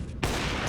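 Burst of gunfire in a competitive shooter video game playoff match, a sudden loud rattle of rapid shots starting after a brief quieter moment and continuing to the end.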